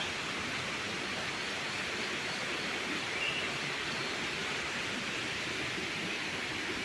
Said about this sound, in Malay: Sungai ada kat depan tu.